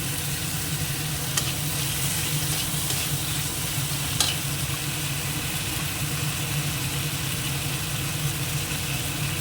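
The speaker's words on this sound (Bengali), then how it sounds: "আর একসঙ্গে টমেটোটাও দিয়ে দিই একটুখানি আদা বাটা দিয়ে দিলাম" Tomato and ginger paste frying in a pan, a constant close sizzle under a low steady hum, broken by a couple of faint stirring clicks, with no voices.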